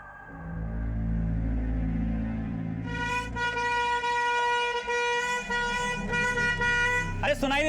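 Road vehicle horn honking in a street scene, a loud sustained blaring tone entering after a low engine rumble and holding with brief breaks, close and insistent, with voices underneath.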